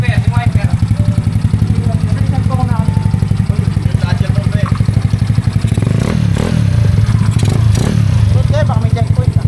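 A Yamaha Mio Sporty scooter engine revs hard on a test run, a loud rapid pulsing roar with throttle swells midway and clattering mechanical noise, voices talking over it.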